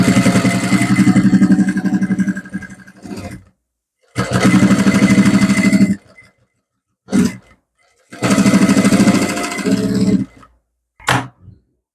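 A sewing machine stitches right beside the piping on the closed neck of a blouse with a half-round design. Three long, steady runs of stitching are broken by pauses and a couple of short bursts, close and loud, with no talking.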